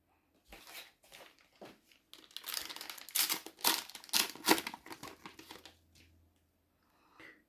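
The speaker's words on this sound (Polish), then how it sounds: "No i teraz otwieramy tą drugą saszetkę." A foil sachet of football cards is torn and crinkled open close by in a burst of irregular crackling and rustling, fading to a few soft crinkles.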